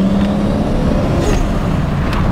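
A Toyota Supra's 2JZ engine drones steadily from inside the moving car, a loud, constant low mechanical hum with road noise blended in and no talking.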